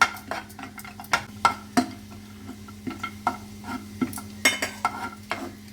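Semolina being stirred in a pan for rava kesari halwa: a spoon scrapes and knocks against the metal in an uneven run of close, moderate strokes over a steady low hum, with no talking.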